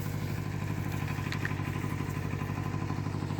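A Kubota B5001 tractor diesel engine runs steadily at a fairly close distance, a continuous low throbbing chug with a faint mechanical clatter, no voices over it.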